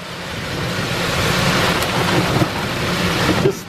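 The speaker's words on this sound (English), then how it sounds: "It just started raining." Rain pours down during a night ride in a golf cart at 3 AM, a steady dense hiss with a low rumble beneath it, loud and continuous, with a few sharper drops near the end.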